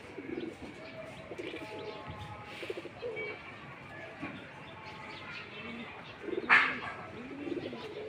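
Pigeons coo softly and repeatedly in a loft or rooftop setting, low throaty calls recurring throughout with a few chirps and a louder call near the end, moderately close.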